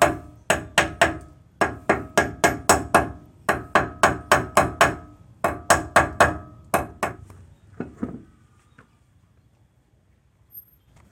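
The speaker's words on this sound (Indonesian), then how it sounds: "Bagusnya sih pakai palu karet ya, biar ini nggak rusak." A rubber mallet hammering disc brake parts in a workshop, loud sharp blows struck in quick bursts of four to six with short pauses between, tapering off into quiet near the end.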